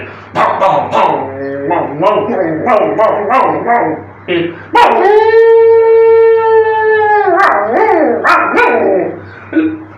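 A pack of stray dogs barks and yips loudly up close in rapid, overlapping bursts, with one long drawn-out howling whine in the middle, followed by more sharp barks.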